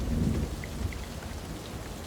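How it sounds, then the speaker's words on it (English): Steady rain with a low rumble of thunder beneath it, the storm sound continuous and fairly loud throughout with no voices. "It is thunder."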